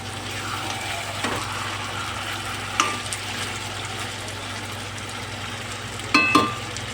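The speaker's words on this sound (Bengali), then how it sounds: "মাংসটাকে আমি কষাই করে নেবো ভালো করে।" Chicken meat stir-fried in a pan, with a steady sizzle and a low hum under occasional scraping and clanking of a spatula, two louder bursts near the end; no speech.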